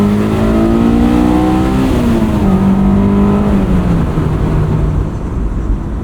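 A 2001 Honda S2000 fitted with Fortune Auto 510 coilovers driving, its engine holding a loud steady drone that climbs in pitch and then eases back as it shifts, heard from inside the car without talk.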